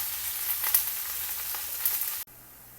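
Sliced onions frying in a pan for chicken biryani, a soft steady sizzle with a couple of faint stirring clicks, cutting off abruptly near the end.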